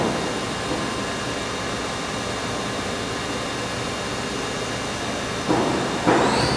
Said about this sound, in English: You know, the spindle sounds very good.